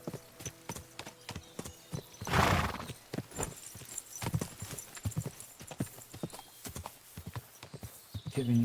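Horse hooves clip-clop steadily at a brisk, even rhythm in a medieval role-playing game, loud and close, with a horse neighing briefly partway through.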